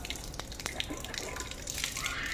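Tap water runs steadily into a sink as it is taken for rinsing the mouth during wudu, a continuous close splashing hiss that swells slightly toward the end.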